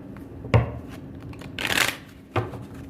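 Tarot cards being shuffled and pulled from the deck, heard as a few soft, close riffling and sliding bursts separated by quiet pauses, with no talking.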